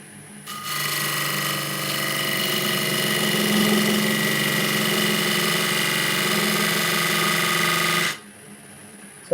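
A woodturning lathe spins a workpiece while a tool cuts a groove for the rim, a steady humming whir with a faint scraping hiss that holds for about eight seconds and then stops abruptly.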